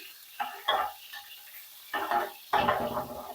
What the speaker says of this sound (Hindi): और घी में डाल लेने के बाद अब मैं चम्मच चला लूंगी और प्याज को मैं लाइट गोल्डन होने तक फ्राई कर लूंगी।